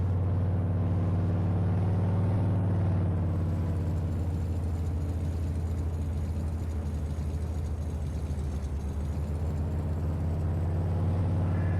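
A truck engine in Farming Simulator 22 strains steadily while hauling wobbly trailers up a hill, a constant low droning hum with no pauses, steady and close.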